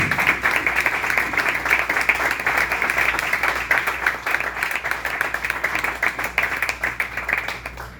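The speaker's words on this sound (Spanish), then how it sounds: "Vamos a dar un aplauso al Señor." A church congregation claps in sustained applause, dense and even for several seconds, fading slightly toward the end.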